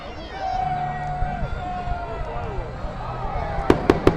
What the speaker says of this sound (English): So this will be a 14-minute display of fireworks tonight